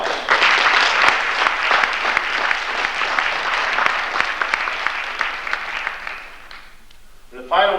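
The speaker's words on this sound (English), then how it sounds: "I think that group deserves a nice round of applause." An audience claps steadily through a winter sports awards ceremony in a school hall, a dense, sustained patter of many hands that fades out near the end before a voice briefly speaks.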